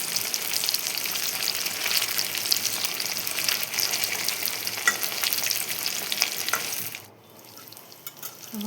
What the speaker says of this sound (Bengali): এখন আমি সসগুলো উল্টে দেবো